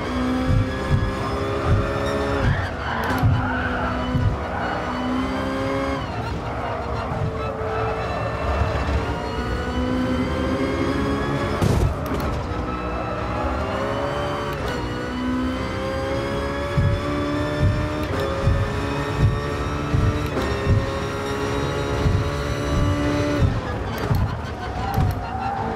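Race car engine in the Gran Turismo Sport video game, with a steady revving drone and shifting pitch as the car accelerates through a six-speed gearbox, loud and continuous, with a voice talking faintly over it.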